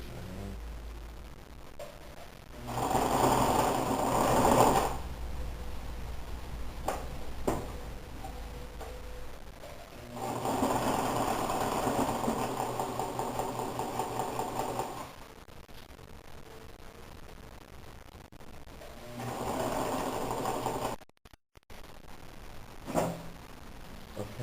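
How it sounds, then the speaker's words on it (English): Sewing machine stitching down a pressed blazer lapel with a small stitch, whirring in three separate bursts of a few seconds each, with quiet ticking and handling noises between them. "now I'm just going to sew a tiny stitch all around to sew this down"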